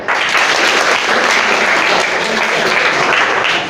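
Loud, dense applause from a school audience for the debate participants at a government school debate competition, a steady wash of many hands clapping that holds evenly for the whole stretch.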